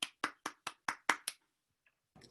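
An audience claps after a host's introduction at a talk program, seven sharp separate claps at a quick even pace, then a short pause and a brief faint stir of sound near the end.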